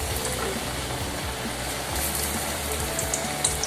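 Wheat pathiri lifted out of hot frying oil, a dense, even crackling hiss of bubbling oil filling the whole moment at close range, with a few faint clinks of a utensil near the end.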